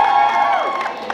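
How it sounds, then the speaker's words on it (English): A crowd cheers at a live Supanova convention show in Brisbane, a loud, sustained wall of shouting and whooping voices with high-pitched yells rising above it. "give her a cheer"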